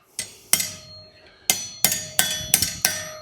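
Hammer blows on a bent, kinked metal piece laid on an anvil, seven sharp ringing strikes in an uneven rhythm with short pauses, close and loud with no talking.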